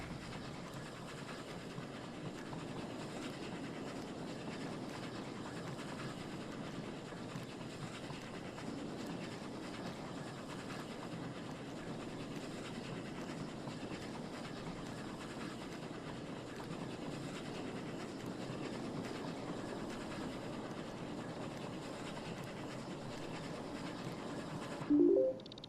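A train rolls along in the automation video game Oddsparks, a steady, even rumble with faint rhythmic clatter that continues alone for the whole stretch, with no talk.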